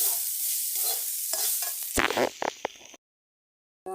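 Eggplant pieces stirred in a frying pan, with a steady sizzle under scraping and clattering stir strokes that grow louder near the end, then a brief silence before the frying resumes.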